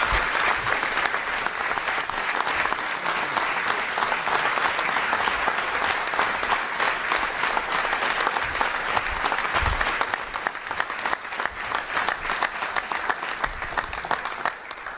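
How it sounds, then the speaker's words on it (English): An audience at a Wounded Warrior Project event with President Donald Trump applauds for a guest, a dense, steady roar of many hands that holds for fifteen seconds and thins slightly near the end. "Please welcome him with a round of applause."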